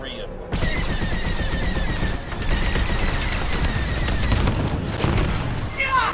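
Rapid, continuous volleys of laser cannon fire from a TIE Bomber in Star Wars Squadrons, loud and dense with booming impacts and an engine roar, briefly dipping before resuming.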